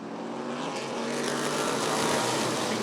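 Race cars roar together at Rockford Speedway just after the green flag of a bracket heat, a loud continuous engine drone building slightly as the pack accelerates.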